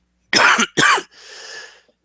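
Two sharp, close coughs in quick succession, followed by a softer breathy exhale.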